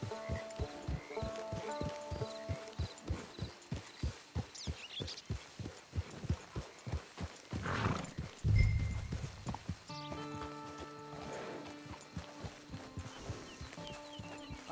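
Steady rhythmic clip-clop of horse hooves while riding in Red Dead Redemption 2, close and even, with a horse snort and whinny midway and faint background music.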